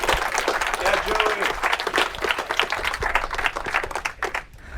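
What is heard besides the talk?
debate audience applause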